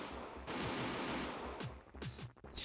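A loud gunshot-style bang from the Higurashi video game, a broad burst of noise that sustains, followed by several sharp cracking impacts near the end, with no talk.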